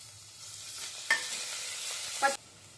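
Whole spices sizzle in hot oil in a pan for chicken fry piece pulao, a steady close crackling hiss with two brief louder bursts as they are stirred, no talking.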